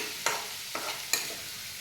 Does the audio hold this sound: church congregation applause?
no